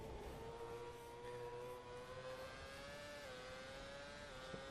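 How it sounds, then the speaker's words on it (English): Far off in the background, a Red Bull RB9 Formula 1 car in the Assetto Corsa racing game, driven through Maggots and Becketts at Silverstone, gives a faint, thin engine whine that rises and dips slightly. "Only just hear the Formula 1 car in the background as Whincup comes through Maggots and Beckett"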